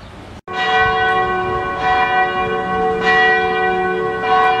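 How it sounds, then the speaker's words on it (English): Church bells ring at ten o'clock in Sarasota, Florida, near Palm Avenue, loud and close with repeated resonant strikes whose tones hang and overlap, a new stroke roughly every second or so. "Listen to those church bells ring."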